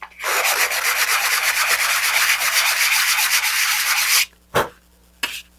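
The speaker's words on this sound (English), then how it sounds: "if you want to clean it up with some sandpaper, you can go ahead and do that." Sandpaper rubs back and forth over a plastic Draco BG model rocket part in steady rapid strokes, close and loud, then stops with two short separate scrapes at the end; no talking.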